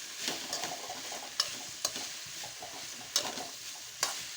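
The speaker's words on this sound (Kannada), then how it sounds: "ಇದು ಮೆತ್ತಗಾಗುವರೆಗೂ ಹುರಿದು ಒಗ್ಗರಣೆ ಹಾಕ್ಬೇಕು ನೋಡಿ" Spices for tempering sizzle and fry in a pan while being stirred for okra palya, a steady soft hiss broken by a few sharp clinks of the spoon against the pan, close and faint, with no voices.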